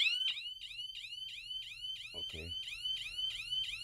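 A shrill electronic alarm triggered by an RCWL-0516 microwave motion sensor chirps in rapid repeating sweeps, loud and insistent, partly covered by hand, with a brief knock or thump partway through.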